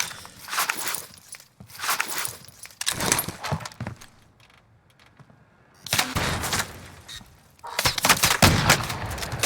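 Gunfire in Call of Duty Warzone, repeated bursts of close shots in clusters separated by a quieter pause, loud and sharp.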